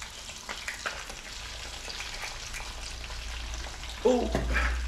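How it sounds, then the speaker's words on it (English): Steady frying sizzle in a pan for a full English breakfast wrap, rising into a louder crackle near the end as an egg goes into the hot fat, with no talking. "Put the egg in now, guys."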